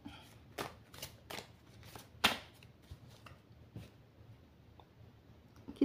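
Oracle cards are shuffled by hand in a quiet room, giving soft, repeated riffling slaps and clicks at an irregular pace, close and fairly faint, with no voice over them.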